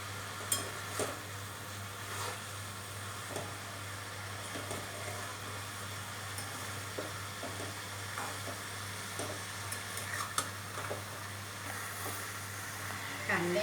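Salted onions for a Khandesh-style onion chutney fry in a pan with a soft, steady sizzle. Occasional stirring scrapes sound over a low electrical hum throughout.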